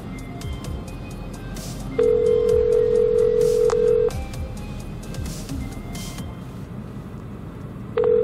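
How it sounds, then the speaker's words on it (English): An Iridium GO satellite phone rings with a steady electronic tone from 2 to 4 seconds, then starts again just before the end, close and loud over a low outdoor rumble high on a mountain pass. "It's ringing."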